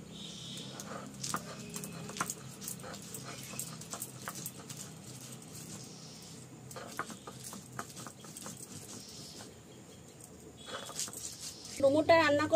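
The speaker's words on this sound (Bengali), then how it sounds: "একসাথে আমি বেটে নিচ্ছি" Ginger, garlic, black peppercorns, whole cumin, whole coriander and dried red chillies are ground together into a paste, making rhythmic scraping and knocking strokes at moderate volume that quicken and grow louder near the end.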